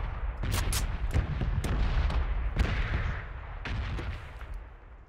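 Gunfire from a computer-controlled bot shooting at the player in PUBG: a cluster of loud cracking shots followed by a few more spaced reports, heavy and booming against a rumbling backdrop.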